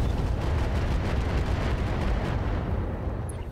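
Mech weapons firing improved ammo in RogueTech, loud continuous booming volleys of heavy gunfire and explosions with rumbling impacts, close and dense, tapering slightly at the end.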